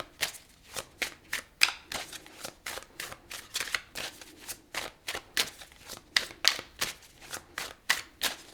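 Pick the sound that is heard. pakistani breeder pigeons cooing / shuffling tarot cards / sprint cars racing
shuffling tarot cards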